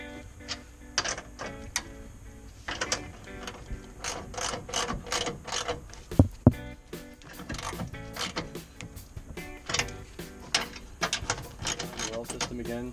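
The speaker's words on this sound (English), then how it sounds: "Alright, so now we can tighten them up." Ratchet wrench tightening supercharger bolts on a Subaru BRZ, rapid clicking bursts repeated many times in close succession, up close with no talk.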